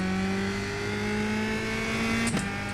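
USF2000 race car in iRacing, a steady droning engine note held through a corner, with a quick blip and pitch drop of a downshift near the end.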